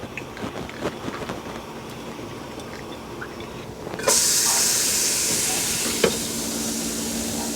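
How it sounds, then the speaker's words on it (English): A hot wok on the stove bursts into a loud, steady steam hiss about halfway through, after quieter kitchen clatter, and the sizzling rush holds to the end. "got my wok heating up here."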